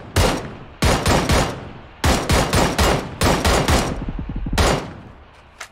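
Gunfire in the video game PUBG, loud close automatic bursts of three to five rapid shots each, repeated in several volleys with short gaps between them and a faint trailing shot at the end, with no talk.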